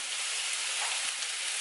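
Pre-boiled chicken gizzards sizzle on a home barbecue grill, a steady, dense, close hiss of frying with no talk.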